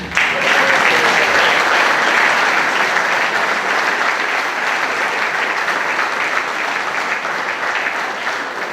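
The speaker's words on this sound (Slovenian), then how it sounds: "Lahko zaploskate." A crowd at an outdoor evening party with a live band applauds at length, a loud, dense clapping that holds steady and slowly eases off.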